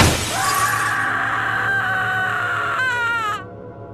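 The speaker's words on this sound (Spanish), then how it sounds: "seguido del estruendo sonido de cristales quebrándose" A loud crash of breaking glass with a sustained ringing, wailing tone that fades out near the end.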